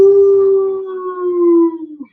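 A human voice imitating a jackal howl, giving one sustained, falling wail that trails off after about two seconds, heard alone and close.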